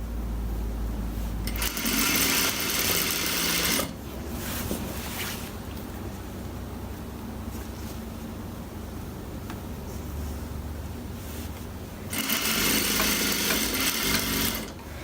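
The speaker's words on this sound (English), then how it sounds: "So I'm going to fold and stitch as I go." Sewing machine stitching fabric for a Nigerian iro and buba outfit, running in two long loud bursts at the start and end with quieter steady machine noise between them and no talk.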